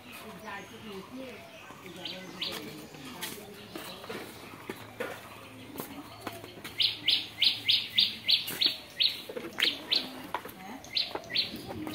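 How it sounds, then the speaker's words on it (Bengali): Birds chirp in quick, repeated bright tweets that grow busier and louder toward the end, over a steady outdoor background with voices nearby. "সকাল থেকে কত রকমের পাখির ডাক শুনছি"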